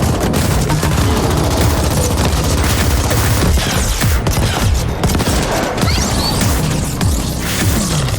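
Dense, loud gunfire from the sci-fi shooter game The Ascent, with rapid machine-gun bursts and heavy booms layered continuously throughout and no speech.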